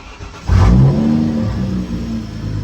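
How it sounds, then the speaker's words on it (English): BMW N55 engine after a valve cover gasket replacement cranks and fires with a loud burst, then settles into a steady, rumbling idle close by, with no talking. "I've done all that, so now let's start the car."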